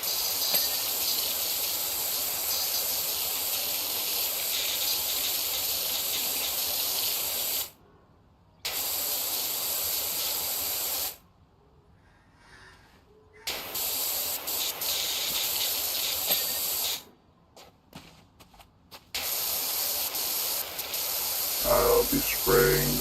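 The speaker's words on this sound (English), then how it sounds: "I'll be spraying down this bitch." A pressure washer in PowerWash Simulator sprays in long, loud, continuous hissing bursts, cutting out for several brief pauses between runs, with some faint talk toward the end.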